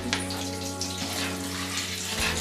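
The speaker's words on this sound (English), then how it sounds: "So you're filling your sink with cold water." A tap runs cold water into a kitchen sink, a steady close rush of pouring water with a faint hum beneath, continuing unbroken with no talk.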